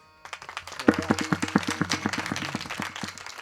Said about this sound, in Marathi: यांच्यावर एकदा जोरदार टाळ्या झाल्या पाहिजे महाराज